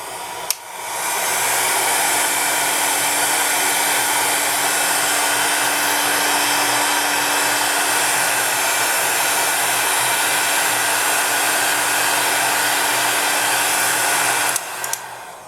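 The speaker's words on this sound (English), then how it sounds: "I'm going to bring over a heat gun and I'm going to heat this" A heat gun blows hot air onto polymer clay in a loud, steady, continuous whoosh that switches on with a click and runs for about fourteen seconds before cutting off, with no talking.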